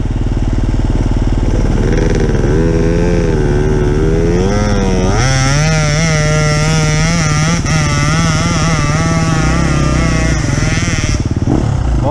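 Hard enduro motorcycles on a training ride in Romania rev loudly and continuously, their engine pitch climbing and wavering as throttles open. A lower engine drones underneath, close and dominant throughout.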